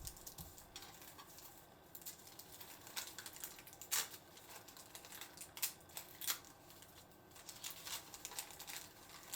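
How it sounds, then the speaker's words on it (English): Nori sheet being cut into pieces with scissors, quiet crisp snips and rustles in an irregular patter, with a few sharper clicks standing out. "cut the nori sheet into 3 pieces each"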